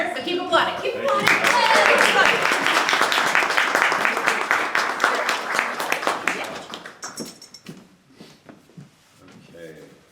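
An audience applauds at a poetry reading as a tall poet steps up, a dense wash of clapping for about seven seconds that thins into scattered claps, with some voices and microphone handling.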